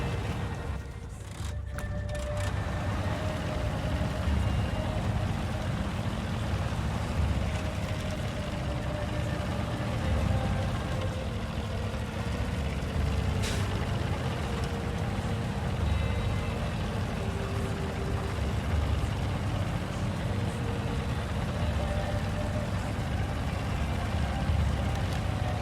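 Heavy truck crawling slowly through rough terrain in the video game SnowRunner, its engine droning steadily and loudly for the whole stretch with a brief clatter near the start.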